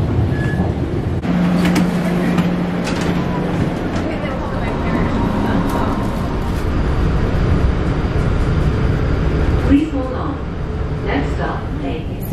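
Rumbling ride aboard an airport terminal train carrying travellers between gates, a steady loud rolling hum throughout with brief tonal whines and a shift near the end, with people talking over it.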